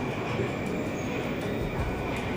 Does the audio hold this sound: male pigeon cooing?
no